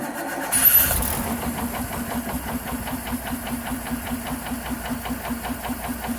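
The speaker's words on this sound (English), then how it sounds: "So we'll crank her up to see if it behaves." A small engine with adjustable mixtures is cranked over and catches, settling into a steady, evenly pulsing mid-pitched run up close with no talking.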